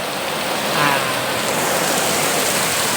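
Steady, dense rain hisses on a surface, broadband and continuous, with a brief swell partway through; no talking.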